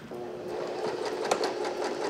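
A domestic sewing machine stitches through four layers of fabric for a women's bomber jacket, a steady rapid mechanical whir with fine rhythmic clicking, close and continuous throughout.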